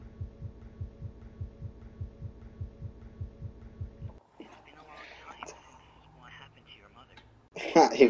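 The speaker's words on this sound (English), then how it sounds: "Why my heart beating so hard?" A steady heartbeat effect from the PS5 psychological horror game Evil Inside thumps in a regular double-beat rhythm for about four seconds, then drops away into quieter ambient game sound and a brief burst of noise.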